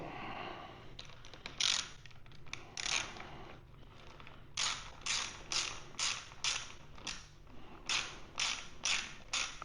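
A wrench or ratchet tightening bolts on Acerbis Rally Brush hand guards on an MT450 motorcycle, heard as close repeated creaking clicks in short rhythmic bursts, fairly quiet with no talk.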